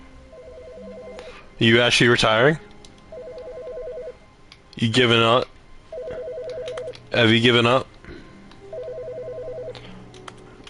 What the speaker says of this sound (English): Wait a minute, I hear a phone call.